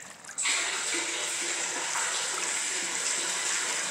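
Water splashes and rushes steadily over folded metal siding as it is washed, a loud continuous spray starting abruptly and holding close by, alone without talk.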